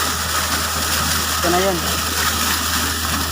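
Water gushes hard from a deep well as a compressor flushes the casing at an industrial estate in Panabo City: a loud, steady roaring rush that holds for the whole stretch, with a short spoken phrase partway through.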